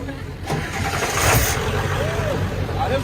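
A car engine fueled with gasoline made from plastic runs steadily with a rough mid-range rumble and whine, under continuous background noise, with voices talking over it.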